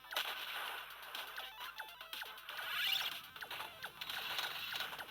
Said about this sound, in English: This is a nice fast shooter and it's got auto fire.